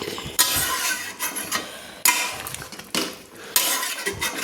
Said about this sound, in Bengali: দিয়ে আমি একটু নেড়ে নিলাম।